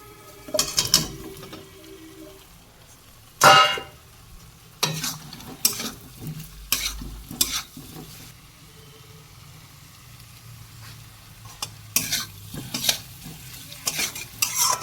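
Small potatoes with chicken curry masala for aloo dum: irregular spatula scrapes and stirring clatters over a quiet sizzle in a pan, with pauses between strokes.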